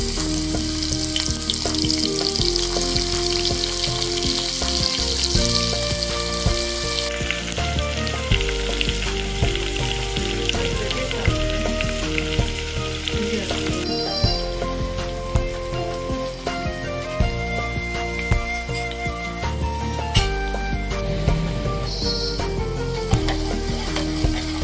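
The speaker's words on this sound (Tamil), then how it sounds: "வெங்காயத்தை நல்லா கோல்டன் கலர் வர வரைக்கும் நல்லா வதக்கிக்கோங்க." Sliced onions frying in hot oil with cinnamon, bay leaf, cloves and cardamom for mutton biryani, a loud continuous sizzle close up with occasional stirring scrapes.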